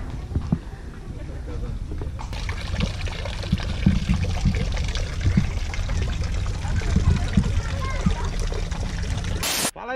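Water runs and splashes from a working outdoor fountain in a steady, close pour, with people talking over it throughout.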